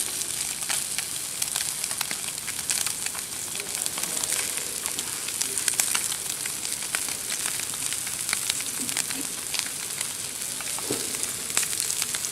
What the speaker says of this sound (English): So when your scallops are searing,